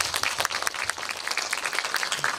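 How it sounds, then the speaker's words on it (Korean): Applause from an audience at a film screening Q&A, a burst of many hands clapping in a brisk, uneven patter that fills the short moment. "네, 박수로 한번 부탁드릴게요."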